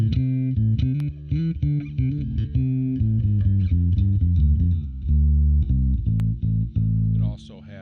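Bass guitar played through a factory distortion preset on an MX5 effects unit, a run of thick, driven notes and chords with steady sustain, close and loud with no talking.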